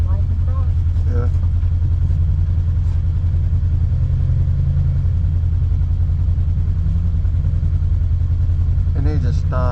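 A Polaris RZR 900 engine on Portals and 35-inch tires drones loud and steady nearby, revving slightly while a winch pulls it across a slope, with voices talking over it.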